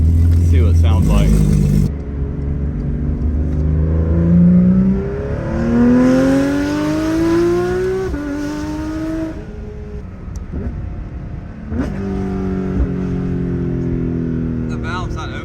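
Porsche 992 GT3 RS with a Soul exhaust, run in normal mode with the valve open, loud and close through revs rising and falling across several gears, with talk over parts of it.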